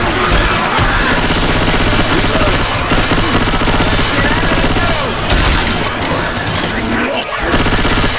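Intense gunfire in the zombie shooter video game Left 4 Dead 2 on the Dark Carnival highway, a loud continuous barrage of overlapping shots and booms filling the whole stretch.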